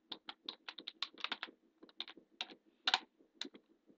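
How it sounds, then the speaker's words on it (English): Rapid clicking keystrokes on a computer keyboard while entering Meteor commands, a close, quiet, irregular patter of individual key presses with brief pauses and no talk. "I'm just going to type the usual Meteor commands"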